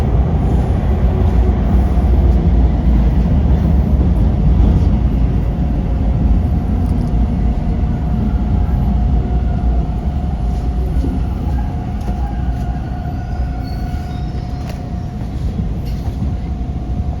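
Toronto TTC green line subway train rolling into a station, a loud continuous low rumble of wheels and motors with a faint steady whine, easing slightly as it slows, with no talking.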